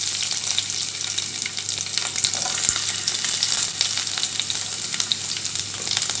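Garlic, green chilies and curry leaves fry in hot oil, a dense, steady sizzle with crackling pops and a few stirring scrapes, close and continuous with no talking.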